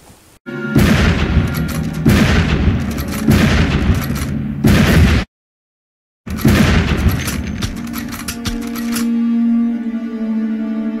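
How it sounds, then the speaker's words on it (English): Movie gunfire from an 1866 Yellow Boy carbine: loud repeated shots with booming reports in rapid bursts, a brief silent cut, then more shots fading into a sustained ringing tone. "Rock Mullaney doing absolute work with the 1866 Yellow Boy carbine right here"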